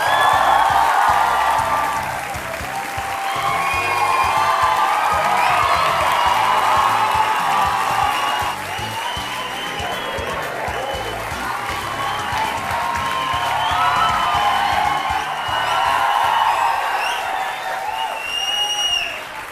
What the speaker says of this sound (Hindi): और ये तालियां बजते रहें